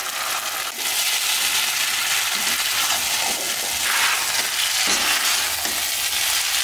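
Chow mein noodles stir-fried in a pan with tomato sauce, salt, scrambled egg and spice mix, a steady close sizzle with repeated scraping stirs of the spatula throughout, no talking.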